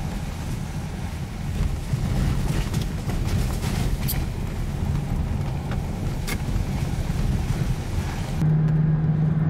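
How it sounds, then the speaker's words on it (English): A BMW X3 SUV being driven after repair for an engine that cranked but would not start: steady broadband road and engine rumble with wind noise inside the cabin, continuous and fairly loud, with no talking. "So we are driving, the vehicle drives well, it has a lot of power"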